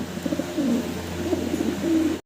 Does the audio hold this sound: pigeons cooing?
yes